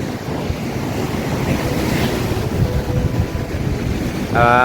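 Sea waves wash steadily onto the seashore under buffeting wind noise, loud and continuous, with a brief voice at the very end.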